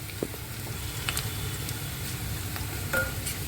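Onion sautéing in a pan for Punjabi kadhi pakora, a continuous soft sizzle with scattered light clicks and spoon scrapes, moderately quiet and without speech.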